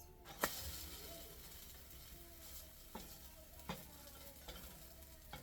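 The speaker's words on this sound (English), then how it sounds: "So we're gonna go ahead and flip this." A vegan chocolate chip pancake sizzles softly in a pan, and several sharp spatula taps and scrapes cut through as it is flipped, fairly close and quiet.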